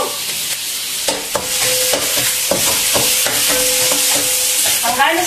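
A pan stir fry for palabok, seasoned with pepper and salt, sizzles loudly and continuously while a utensil scrapes and taps the pan in regular strokes, close up.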